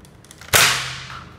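A Nerf X-Shot toy blaster fires a dart with a single sharp snapping pop that decays quickly, close and loud against a quiet background.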